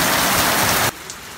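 Heavy rain pours down steadily in a dense, loud hiss, then cuts abruptly to a much quieter wash of rainfall partway through.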